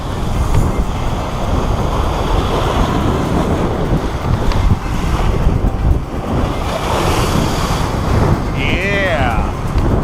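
Large waves rolling in and breaking on the Lake Michigan shore, a loud continuous surf roar with heavy wind buffeting the microphone and a faint chirp near the end.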